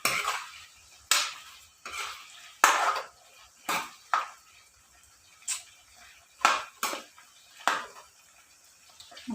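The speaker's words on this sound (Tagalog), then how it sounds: "fry the onion and garlic" Onion and garlic frying in a pan for pancit canton and bihon guisado, heard as a faint sizzle broken by roughly a dozen sharp clanks of a metal spatula stirring and scraping against the pan, with no talking.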